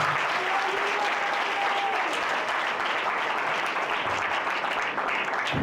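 Dense, steady applause from a church congregation during a service, loud and continuous throughout with many hands clapping at once.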